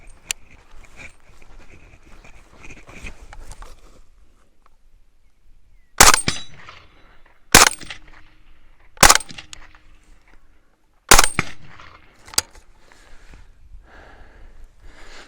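Five sharp, loud .300 Blackout rifle shots from a Steyr AUG A3 M1, fired at targets, crack at irregular intervals of roughly one to two seconds, with quiet outdoor ambience between them.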